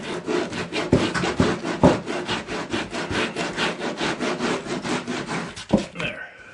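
Sandpaper rubbing back and forth over cork roadbed for a model railroad, a steady run of close, loud rasping strokes with a few sharper scrapes, ending in a brief pause.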